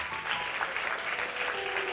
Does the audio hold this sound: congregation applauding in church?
yes